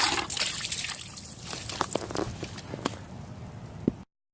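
Water splashes and trickles in short, irregular spurts while rinsing a polished aluminum wheel, close and fairly quiet, ending abruptly.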